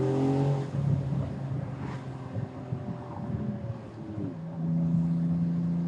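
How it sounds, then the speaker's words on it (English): Twin-turbo Porsche with a six-speed manual droning steadily at close range, its engine tone stepping up through gears with wind rush, no talk. "goofing around with a twin turbo Porsche with a 6-speed manual"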